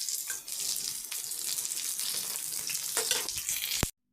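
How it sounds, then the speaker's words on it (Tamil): Crushed garlic is tempered in hot oil and poured over cooked greens, crackling and sizzling loudly and continuously for about four seconds before cutting off suddenly. "கடைசியாக வந்து பூண்டு ஒன்று தட்டி நம்ம அதில் சேர்க்க போகிறோம்"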